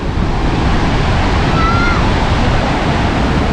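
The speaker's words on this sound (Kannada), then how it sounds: "ಎತ್ತ ನೋಡಿದರತ್ತ ಫಾಲ್ಸ್." Gaganachukki and Barachukki waterfalls on the Kaveri River during the monsoon give a loud, unbroken roar of falling water mixed with wind buffeting the microphone.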